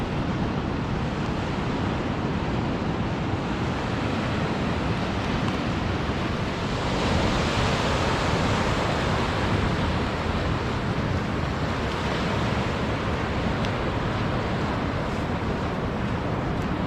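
Ocean waves wash steadily onto a beach on the Oregon Coast Trail, a continuous close surf roar with wind noise buffeting the microphone throughout.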